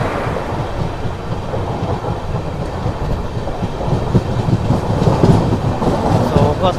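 Seshadri Express running on the track, a loud, steady rumble of rolling wagons that swells slightly toward the end, close by and continuous, with no voices.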